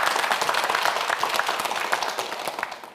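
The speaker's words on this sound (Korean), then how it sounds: "최현준 학생에게 큰 박수 부탁드립니다." A studio audience on a Korean televised science quiz show claps for a student contestant, a brisk, even patter of many hands that gradually tapers off toward the end.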